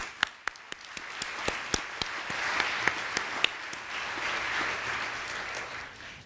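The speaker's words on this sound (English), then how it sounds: "Can we give them a round of applause?" Applause from the audience at a community business event in Jacksonville. Crisp individual claps ring out first, then the clapping grows into a broader, steady applause that carries on moderately loud for several seconds.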